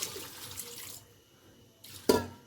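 Roughly a glass of water poured into a cooking pot while making mutton paya, a steady splashing pour for the first second, a quieter stretch, then a brief sharper burst of splashing near the end.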